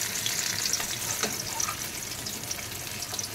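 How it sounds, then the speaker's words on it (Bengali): Paneer pieces fry in hot oil with a steady, close crackling sizzle, dotted with small pops and a faint stir or two. "এদিকে পনিরগুলো ভাজা হয়ে গেছে আমার।"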